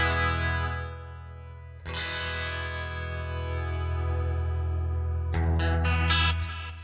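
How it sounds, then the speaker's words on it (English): Electric guitar run through a Headrush MX5 chorus effect with its rate on an expression pedal, sustained chords swirling and shimmering, restruck a couple of times with a few quick higher notes near the end, moderately quiet and alone. "I can turn the chorus back on and I'll get something that sounds like this"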